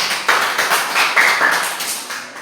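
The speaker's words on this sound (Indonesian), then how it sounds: "tepuk tangan untuk mereka dulu" A classroom group of students gets a short round of applause, with brisk, uneven hand claps close by lasting about two seconds.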